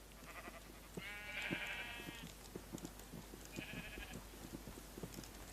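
Sheep bleating in the Minecraft video game, two wavering bleats, the first longer and the second shorter, quiet under a steady bed of soft rhythmic clicks and ambient game sound.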